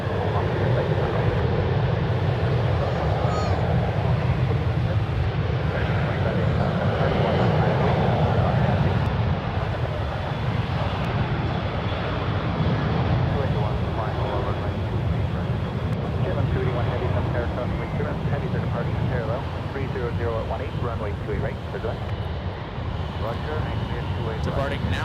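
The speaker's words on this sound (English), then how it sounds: "Departing now, we have a Southwest Airlines Boeing 737-700, flight 1158, head to Burbank" A Southwest Airlines Boeing 737-700 takes off at San Francisco International Airport with a loud, sustained jet roar that slowly fades, while a person keeps talking over it.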